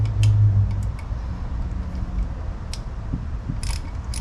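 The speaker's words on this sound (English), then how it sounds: "I gotta find a screwdriver to be able to take this off." A screwdriver turns screws out of a motorcycle carburetor, making faint metallic ticks and scrapes over a low, steady background hum.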